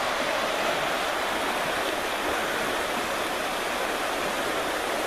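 A river flows steadily in the distance below a stream, giving a continuous, even rushing hiss of water with no pauses, moderately faint.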